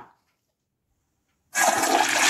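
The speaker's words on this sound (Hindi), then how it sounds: "फ्लश तो दबाओ" A toilet flushes in a home bathroom, a loud, steady rush of water starting suddenly after a short quiet pause and running to the end.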